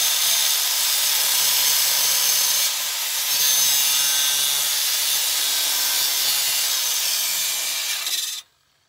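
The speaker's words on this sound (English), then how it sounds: "then you take the cutoff wheel and you'll be able to whack there" Cutoff wheel slicing through a wooden truck bed strip, a loud, close, continuous high-pitched grinding whine that dips briefly, resumes, then stops abruptly.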